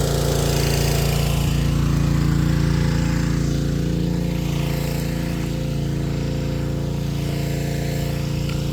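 A power washer's engine runs nearby at a steady, loud droning idle, with a constant low mechanical rumble that eases slightly in volume partway through.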